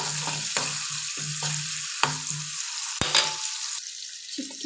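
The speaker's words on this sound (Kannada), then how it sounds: "ಸಾಸಿವೆ ಜೀರಿಗೆ ಹಾಕಿ, ಕರಿಬೇವು ಹಾಕಿ, ಕಡಲೆಬೇಳೆ, ಉದ್ದಿನಬೇಳೆ, ಹಸಿಮೆಣಸಿನ್ಕಾಯಿ, ಈರುಳ್ಳಿ ಎಲ್ಲ ಹಾಕಿಬಿಟ್ಟು ಹುರ್ಕೊಳ್ಳೋಣ ಒಗ್ಗರಣೆ." Mustard seeds, cumin, curry leaves, chana dal, urad dal, green chilli and onion sizzle in hot oil for a tempering. A steady crackling fry is broken by a few sharp knocks of a stirring spoon against the pan.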